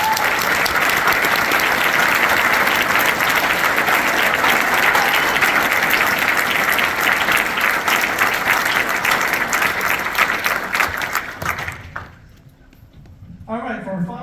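Loud, sustained audience applause at a spring band concert, dense clapping that fills the room for about eleven seconds before quickly dying away into quiet room sound.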